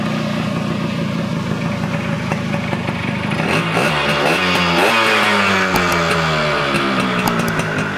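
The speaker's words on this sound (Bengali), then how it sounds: "আমি ইঞ্জিনটা স্টার্ট করে দিচ্ছি।" A Yamaha RX 100 motorcycle engine starts and settles into a steady, close, loud two-stroke idle, with a short rev partway through; no one speaks.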